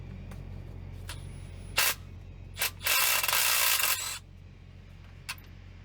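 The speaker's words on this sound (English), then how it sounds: "Obviously you gotta use a wrench or just a regular ratchet." A ratchet wrench loosening alternator bolts on a Peterbilt truck makes a few short, close clicks, then a longer steady burst of rapid ratcheting that stops abruptly, with a faint low hum underneath.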